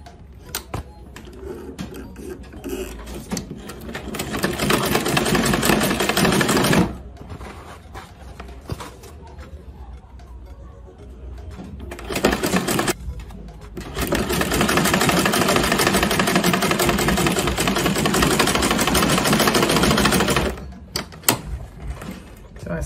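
A sewing machine stitches bias tape onto an Ankara fabric baseball cap in two long, loud runs of rapid mechanical whirring, separated by a quieter pause with lighter handling noise.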